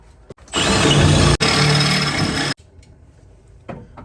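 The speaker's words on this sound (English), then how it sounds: "I'm gonna go ahead and start drilling the holes." A power drill runs in two loud bursts, with a brief pause between them, as the bit grinds through metal close by on a 1988-98 Chevy Silverado truck frame.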